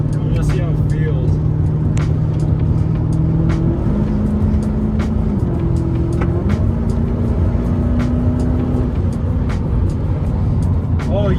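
A Lexus SC400 on a test drive hums steadily from inside the cabin, engine tone stepping up in pitch as it shifts through gears, loud road rumble throughout, with a person talking over it.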